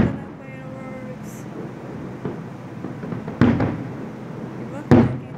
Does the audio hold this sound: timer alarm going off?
no